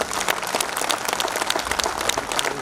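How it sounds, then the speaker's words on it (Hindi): A large audience at a zonal council meeting in Gorakhpur claps loudly and continuously, a dense wash of many hands with sharp individual claps standing out. "तो मैं चाहूँगा आप लोग अपने लिए जोरदार ताली बजाएं।"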